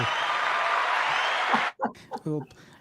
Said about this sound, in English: we're going to give you some applause